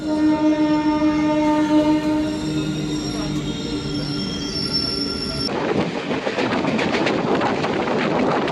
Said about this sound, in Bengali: WAG-12 goods locomotive.